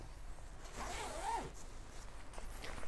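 A zipper on an Osprey Farpoint travel backpack is pulled in one smooth, continuous stroke, close and quiet, followed by a faint click at the end.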